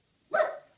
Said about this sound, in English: if you bark one more time, you're going to go in timeout.